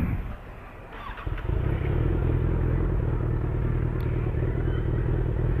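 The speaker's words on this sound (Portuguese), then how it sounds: "Monta aí na moto." A motorcycle engine starts and settles into a steady, loud rumbling idle close by, with no talking.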